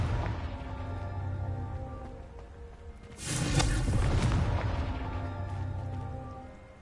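Confringo fire spell in Hogwarts Legacy, heard as a low rumble that swells into a broad fiery whoosh and blast about midway, then holds a sustained crackling roar before gradually easing off.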